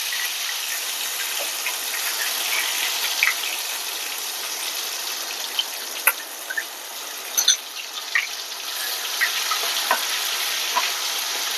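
Ginger garlic paste sizzles steadily in hot oil for a raw mango pickle, a continuous loud crackling fry with occasional sharper pops and no talking.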